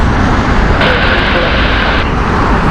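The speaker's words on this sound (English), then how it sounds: "Frankfurt flight here, Airbus A320 Neo." A Lufthansa Airbus A320neo on the Frankfurt service at Heathrow gives a steady, loud broadband engine roar, with a brighter hiss rising in the middle and then fading, while a voice talks over it.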